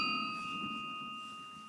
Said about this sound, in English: I'm going to ring the bell for Christine Watson.